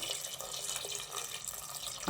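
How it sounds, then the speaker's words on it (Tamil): Water pours steadily into a pot of dal and vegetables being cooked for sambar, a continuous close splashing and trickling that runs for about two seconds and swells in loudness at the end. "நம்ம காய்கறி மூழ்கிற அளவுக்கு நம்ம தண்ணி சேர்த்துக்கணும்."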